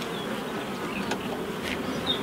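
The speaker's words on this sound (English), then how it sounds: "there's a lot of bees in there" A crowd of honey bees in a beehive super makes a continuous close buzz, with a few brighter individual wingbeats rising over the steady drone; no one speaks.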